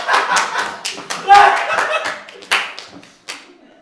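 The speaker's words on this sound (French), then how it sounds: "C'est moi que vous applaudissez?" A small group claps in short, uneven bursts around a strawberry cake with a candle, close and lively, with voices talking over and between the claps.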